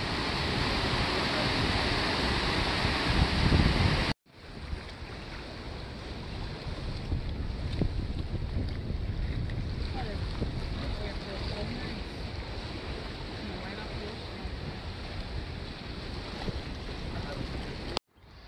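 Surf rolls in along the Gulf of Mexico coast, a continuous wash heavily buffeted by wind rumbling across the microphone, loudest in the opening seconds before a sudden drop to a steadier, quieter roar.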